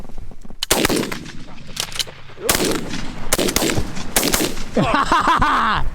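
Close, loud shotgun blasts during an early-season goose hunt in New York, about five sharp reports spaced irregularly, with excited voices between them and goose calling or honking near the end.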